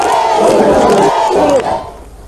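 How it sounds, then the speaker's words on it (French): Dense crowd cheering and clapping warmly for a departing official, a loud roar of voices that swells and then drops away near the end. "une foule très compacte lui a chaudement applaudi"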